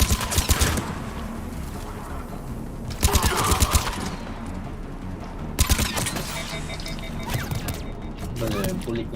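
Mass Effect 3 combat gunfire arrives in three loud bursts of rapid automatic shots separated by quieter stretches of background battle noise, with voices speaking between the volleys.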